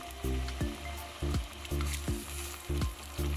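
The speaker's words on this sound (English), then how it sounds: "I then added the 2 tins of tomato after the onion was sauteed for about 2 minutes." Two tins of pulpa tomato hit a pan of sautéed onion and fish stock for a jollof, giving a steady loud sizzle with rhythmic stirring scrapes and low bubbling pulses repeating about every half second.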